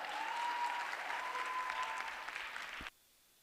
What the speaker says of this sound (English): Please, round of applause, Mensa.